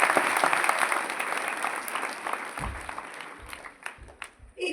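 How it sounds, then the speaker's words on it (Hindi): Loud applause from the audience at a Van Mahotsav tree-planting event at Bharat Mandapam in Delhi, a dense sustained clapping that thins and fades out toward the end. "इन पेड़ों की रक्षा करने वाली इस पूरी टीम के लिए एक बार जोरदार ताली"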